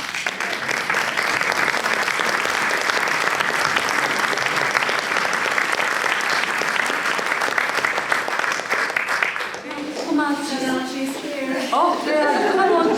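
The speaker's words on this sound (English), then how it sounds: "So we should give Komachi a round of applause." Audience applause for the winning painting at a 2018 art exhibition prize-giving, a steady dense clapping that fills the room, thinning near the end as a voice speaks over it.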